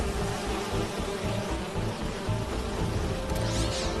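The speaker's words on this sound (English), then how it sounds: "Do you see those little holographic bee wolves?" A steady, droning buzz of insects hums continuously, like several bees hovering close by, with no talking, in Marvel's Spider-Man 2 video game.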